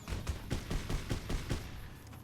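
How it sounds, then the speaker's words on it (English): A rapid burst of repeated marksman rifle gunshots in Fallout: New Vegas, evenly spaced and somewhat muffled, ringing against a noisy background before fading out. "I can definitely hear some gunfire."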